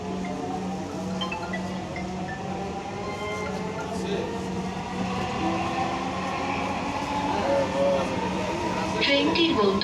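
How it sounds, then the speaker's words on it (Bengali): A Dhaka metro rail train runs between stations, a steady low rumble and rolling hum filling the carriage, with a recorded onboard announcement voice sounding over it. "This train is bound for Motijhil."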